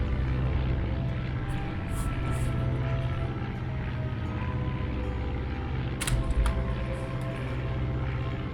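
A World War I propeller plane engine drones steadily in the Red Baron 3D flight game, a loud continuous low hum with a brief burst of extra noise partway through.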